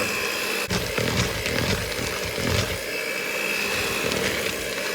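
An electric mixer churns chocolate chip cookie dough with a loud, continuous motor whir and gritty grinding, close by and alone.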